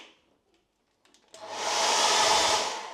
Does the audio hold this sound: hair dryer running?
yes